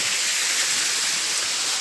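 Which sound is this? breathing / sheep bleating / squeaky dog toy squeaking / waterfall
waterfall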